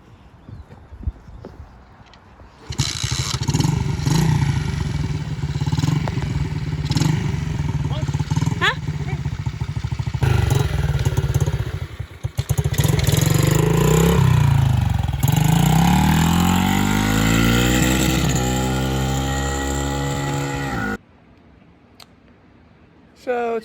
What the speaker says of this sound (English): if you're gonna ride dirt bike, you're gonna have to learn how to start them